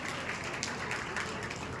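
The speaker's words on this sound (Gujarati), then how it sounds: "એકવાર જોરદાર તાળીઓ સાથે વધાવીએ" Audience applause at a district administration event on juvenile diabetes in Visnagar, Gujarat: a short, fairly faint, dense patter of many hands clapping together, heard from a distance.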